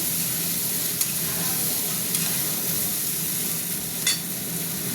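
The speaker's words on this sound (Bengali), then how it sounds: "ভাজা হয়ে গেছে অনেকটাই, তলায় লেগে যাচ্ছে" Vegetables for a vegetarian curry sizzle and hiss steadily in a pan that is browning and catching on the bottom, with a few faint stirring scrapes breaking through the continuous frying.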